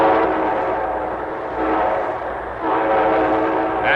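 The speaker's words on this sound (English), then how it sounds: "And here comes our star-studded show train." A train rolls past with its horn sounding, a steady loud rumble of rail cars that surges again toward the end, used as the opening of a 1953 railroad-sponsored radio drama broadcast.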